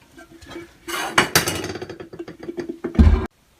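Porcelain tank of an American Standard Cadet 3 toilet set down onto the bowl, a few scraping and knocking contacts building to a solid heavy clunk near the end, close and loud.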